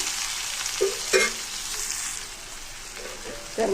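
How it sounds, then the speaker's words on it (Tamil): Chopped onions sauté in oil with garlic in a pan, giving a steady close sizzle. A few louder scraping stirs break it up, and there is no talking. "வெங்காயம் வந்து ஓரளவுக்கு வதங்கி வரட்டும்."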